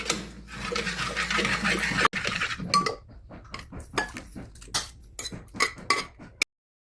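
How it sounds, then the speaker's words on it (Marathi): Cooked taro leaf vegetable is stirred in a pan, a spoon clinking and scraping against metal in close, irregular bursts, dense at first and then breaking into separate knocks before it stops. "थोडी हलवून घेऊया भाजी."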